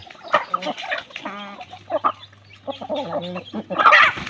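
Chickens clucking close by, several short bursts and a drawn-out rising cackle scattered across the moment, with a low engine-like hum underneath and no talking.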